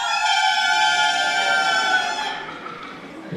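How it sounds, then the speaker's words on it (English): An alto saxophone, a single-reed woodwind, plays one sustained, bright, reedy note at a school sixth-grade concert. The tone is loud and steady, then softens and fades in the final second. "the smaller one, the alto sax, is a single reed. They sound like this."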